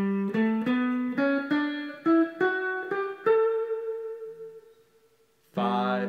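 Electric guitar walk-up from the solo of a song, a climbing run of single picked notes fading into a held tone, then a loud strummed chord at the end, played alone.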